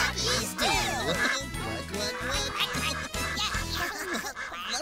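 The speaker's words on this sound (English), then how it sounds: "they quack when they're swimming too" Ducks quack on a farm, loud and close, in a busy run of repeated nasal calls that continues steadily through the whole stretch, with several birds overlapping.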